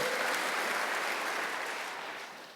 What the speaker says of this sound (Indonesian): Tepuk tangan bagi Allah kita saudaraku.